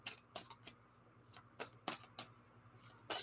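Tarot cards being shuffled by hand in a quiet room, a series of crisp riffling bursts at an uneven pace, fairly close and clear with no talking over them.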